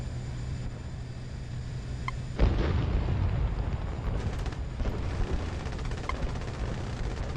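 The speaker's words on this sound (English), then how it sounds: "The missile almost hit me." A missile explosion in the combat flight game Nuclear Option strikes suddenly as a loud, close boom, then trails into a sustained rumbling roar with crackling bursts over steady background engine drone.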